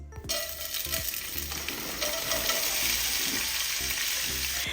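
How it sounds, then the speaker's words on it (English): Potatoes for hash browns frying in hot oil in a pan, a steady close sizzle throughout with faint clinks and stirring scrapes beneath. "The oil has come up to temperature, so I'm going to go ahead and add the potatoes."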